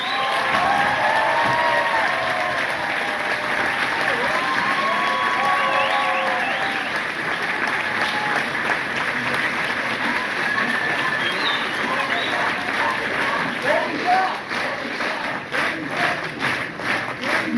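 A crowd at a political rally in Nantes applauds and cheers steadily and loudly, and the clapping turns into a rhythmic, synchronized beat near the end, with voices mixed into the noise.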